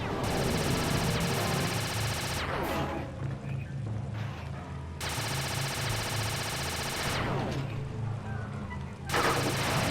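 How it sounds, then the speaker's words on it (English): Video-game gunfire from Sly 2: Band of Thieves, dense rapid bursts of automatic shooting in long loud stretches, broken by brief pauses, with no talking. "You're about to come under fire."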